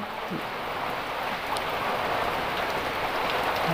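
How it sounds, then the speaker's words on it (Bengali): Heavy rain pours down in Alikadam, Bangladesh, making a dense, unbroken hiss that stays loud and even throughout, with no voices over it. "সকাল থেকে বৃষ্টি হচ্ছে"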